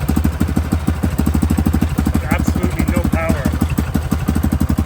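Diesel Mercedes Sprinter van engine running after a jump start from a compact GOOLOO A3 3000A jump starter, a loud, close, steady rhythmic diesel idle clatter that continues evenly throughout.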